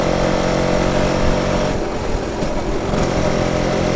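A BSA Bantam 175 motorcycle engine runs on a test ride with a loud, steady, buzzy two-stroke drone close by. The tone wavers slightly as the throttle shifts midway through.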